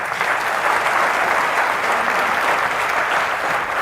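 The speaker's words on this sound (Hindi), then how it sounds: "जोरदार ताली बजा दो इनके" Dense, steady audience applause at a live stage event where a yoga guru is on stage, loud and continuous throughout with no gaps.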